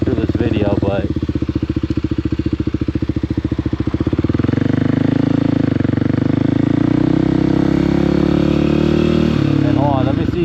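A motorcycle engine running close and loud, a steady pulsing idle that swells into rising revs and shifts as gears change and revs are matched, with someone talking over it.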